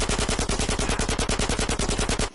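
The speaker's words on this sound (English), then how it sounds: "That was a sniper bullet!" Rapid gunfire from the video game GTA San Andreas, a steady run of loud, evenly spaced shots filling the whole moment with no pauses and no talking.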